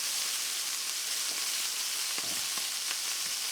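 Pork chops frying in a pan, a steady loud sizzle hissing throughout with occasional soft pops and crackles, close up and with no talking.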